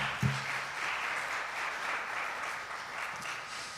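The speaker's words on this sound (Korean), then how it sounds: "우리 하나님께 큰 영광의 박수를 드리겠습니다." A church congregation at a Korean Sunday young adults' worship service claps together, a soft, steady roomful of applause that starts with a brief thump and continues evenly, somewhat distant.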